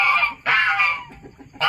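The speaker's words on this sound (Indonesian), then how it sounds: "Ada ayam lain mematuk." A chicken clucks in loud, close bursts with short pauses between calls, beside eggs in an incubator setup.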